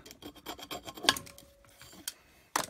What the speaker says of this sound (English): We can get a knife and we can scrape it